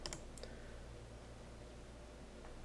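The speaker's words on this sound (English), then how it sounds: "And I'll click save." A computer mouse clicks once or twice, faint and close, to save settings in a web interface, over a steady low background hum.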